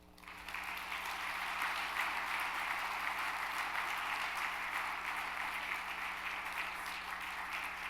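An audience gives sustained, steady applause as keynote speaker Dr. Don Rucker is welcomed at a health IT event, a dense wash of clapping heard from a distance that rises quickly and holds.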